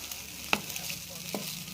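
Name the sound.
stirring a dish seasoned with pepper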